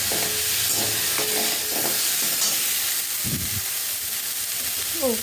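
Curry with a ground mustard-and-poppy-seed paste is stirred in a pan after water goes in, giving soft scraping and clattering over a low sizzle, with a voice briefly audible.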